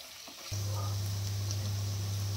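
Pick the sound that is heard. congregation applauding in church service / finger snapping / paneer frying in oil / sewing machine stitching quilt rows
paneer frying in oil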